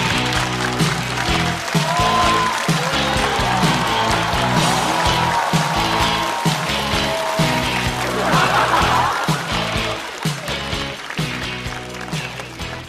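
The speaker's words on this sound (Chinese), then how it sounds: "让我们掌声欢迎季节性的脱口秀演员秋月" An audience applauds to welcome stand-up comedian Qiuyue on a comedy show, with sustained clapping and scattered laughter under rhythmic stage music.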